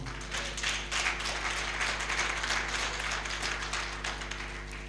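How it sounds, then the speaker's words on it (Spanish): Continuous applause from a church congregation during a sermon, a dense crackling clatter over a steady low electrical hum, rising and slowly tapering off. "Dale un fuerte aplauso al Señor"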